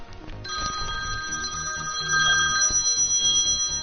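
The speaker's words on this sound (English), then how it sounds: "Okay, I got a phone call." A telephone rings with an incoming call, a loud electronic ringtone repeating in a steady pattern for several seconds close by, with no talk over it.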